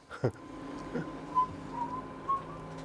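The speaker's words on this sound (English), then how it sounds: "some of you might be wondering what that whistling was all about" Someone whistles a TV theme tune softly, a thin wavering melody over a quiet room with a few low thumps.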